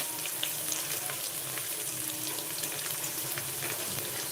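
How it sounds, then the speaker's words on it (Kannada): Oil going into a hot pan while cooking upma with peas, chickpeas and vegetables, heard as a steady, dense sizzle and hiss that holds even and loud throughout, with no talking. "ಸ್ವಲ್ಪ ಎಣ್ಣೆ ಬೇಕು ಅನ್ನಿಸ್ತದೆ ಎಣ್ಣೆ ಹಾಕೋತೀನಿ"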